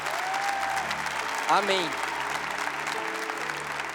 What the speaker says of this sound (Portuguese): Vamos dar uma salva de palmas para esses novos irmãos aqui